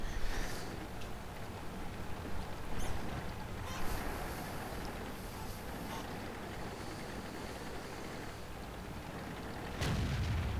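A tank cannon shot striking an enemy tank in a World War II tank video game, heard as a sharp boom followed by rumbling battle noise and a second heavy impact near the end.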